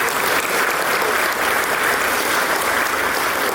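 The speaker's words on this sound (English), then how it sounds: "So I want to everyone give Etor a round of applause." A banquet crowd at a high school basketball awards dinner gives a loud, continuous round of applause, dense clapping filling the room without pause.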